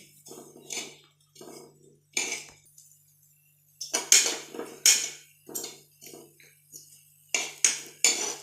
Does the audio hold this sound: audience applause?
no